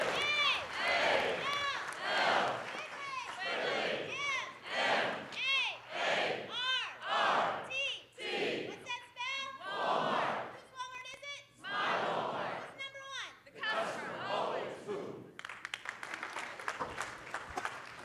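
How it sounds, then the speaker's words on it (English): A large audience at a Walmart sustainability meeting shouts a rhythmic call-and-response cheer, a loud leader's calls answered by bursts of crowd voices in a steady pulsing pattern, ending in applause. "I also have the pleasure in leading on the Walmart cheer."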